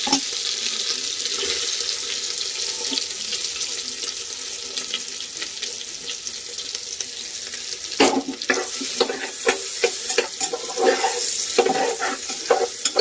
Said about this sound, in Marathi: आलं लसूणचा कच्चेपणा जाईपर्यंत असं फ्राय करून घ्यायचं. नंतर कांदा टाकून द्यायचा.